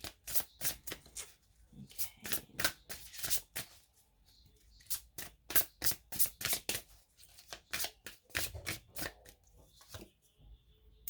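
Tarot cards are shuffled and drawn by hand, heard up close as a string of quick, crisp riffling and flicking bursts with short pauses between them and no speech.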